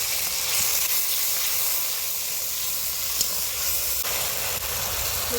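Ginger paste sizzles in hot oil in a kadai with a loud, continuous hiss that holds steady and close throughout, with no voices.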